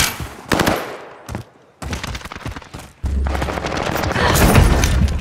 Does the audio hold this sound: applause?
no